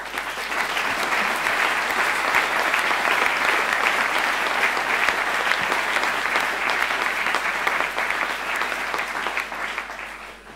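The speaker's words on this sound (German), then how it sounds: "Das ist immer schön, wenn man für die Regierung klatschen" Sustained, loud applause from an indoor audience welcoming government councillor Guido Graf at an Olympic reception for Simon Schürch, steady and dense for about ten seconds before fading slightly.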